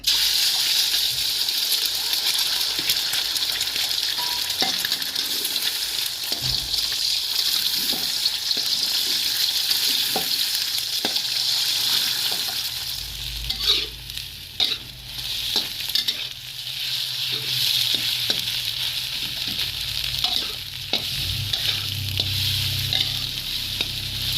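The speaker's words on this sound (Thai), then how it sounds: "แล้วเอาไข่มาทอดมาเกี่ยวกันก่อน" Eggs frying in hot oil in a wok for a Thai stir-fried winter melon and egg dish, a steady loud sizzle throughout with scattered scraping stirs and spatula knocks, no voices.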